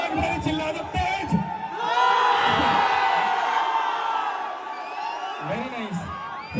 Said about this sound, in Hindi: एक मिनट चिल्ला दो तेज